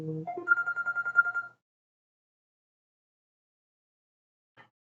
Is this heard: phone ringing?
yes